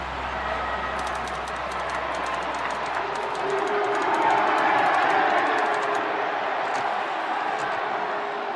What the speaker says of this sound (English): A huge crowd and a huge cheer.